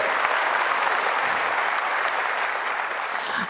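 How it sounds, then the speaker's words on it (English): A large conference keynote audience applauds steadily, dense clapping filling the whole stretch at an even, loud level without pause. "Can we give Kubernetes a big round of applause for graduating?"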